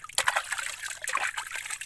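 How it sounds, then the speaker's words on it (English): Food is washed by hand with water in a Kenyan village, with splashes and trickles sloshing in bursts close by. "Then you wash it, clean it nicely with water."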